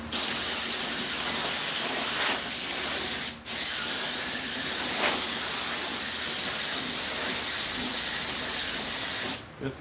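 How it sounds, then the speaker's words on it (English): A steady, loud spray gun hiss, spraying Rust-Oleum paint on a 1950 Ford truck seat, runs almost without a break, dipping briefly once midway and again near the end. "That's why I'm doing it with the spray gun."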